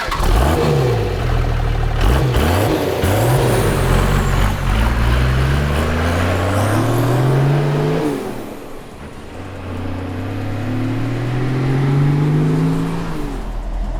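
A Toyota Land Cruiser HJ47 with a 12HT turbo diesel engine revs up through rising pulls, its turbo whistle climbing over the close, loud engine drone, easing off briefly before building again.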